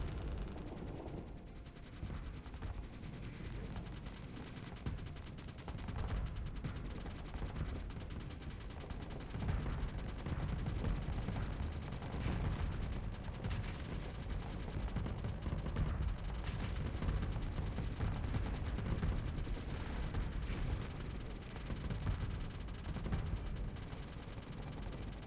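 Torpedoes and weapons fire in the space combat game Starsector, a dense, continuous barrage of rapid gunfire and explosive bursts sustained loudly throughout with no talking.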